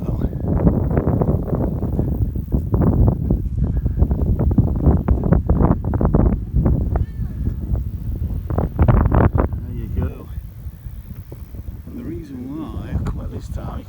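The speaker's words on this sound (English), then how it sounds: "I hope you can hear me from the wind." Strong wind buffets the microphone at a hazy hilltop recreation ground in Sheffield, a steady loud rumble that carries on throughout while someone speaks over it.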